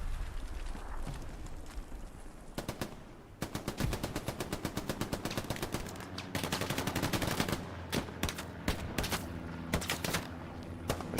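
Dense, rapid bursts of automatic machine gun fire in the Hell Let Loose battle game on the Kursk map. Long rattling volleys and scattered single shots go on for several seconds, loud and close.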